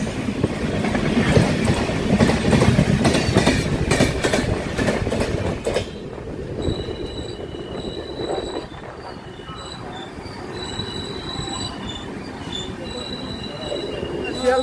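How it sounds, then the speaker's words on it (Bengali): The Sealdah–New Delhi Rajdhani Express runs on the rails with a loud, close rolling rumble and squealing wheels that ease after about six seconds into a quieter steady clatter. "রাজধানী এক্সপ্রেস শিয়ালদা নিউ দিল্লি রাজধানী এক্সপ্রেস।"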